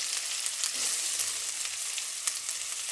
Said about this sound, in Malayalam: ഇഞ്ചി നല്ലോണം പച്ചമണമൊക്കെ മാറിയതിന് ശേഷം നമ്മൾ സവാള ഒരു 3 എണ്ണം അരിഞ്ഞത് ഇട്ട് കൊടുക്കുക